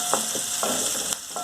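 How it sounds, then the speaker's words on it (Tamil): Onion, garlic and curry leaves sizzle steadily in a pan, a continuous close frying hiss broken by a few brief scraping stirs, with no voices. "இதில் இந்த வெங்காயத்தை போட்டுக்கலாம்."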